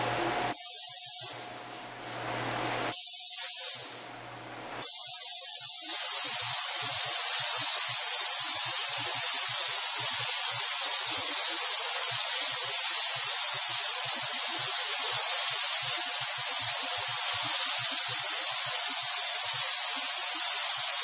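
A spray gun lays sealer onto an aftermarket fender for a 2006 Chrysler Pacifica: a few short hissing bursts, then one long, loud, continuous spray hiss.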